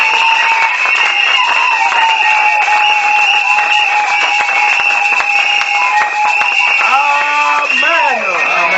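A church congregation at a consecration service claps and cheers over sustained, ringing musical tones, with irregular hand claps running throughout at a loud, steady level.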